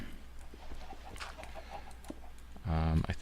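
Chickens in Minecraft (Feed the Beast) cluck in short scattered calls over light background noise, followed near the end by a louder, sustained tonal burst.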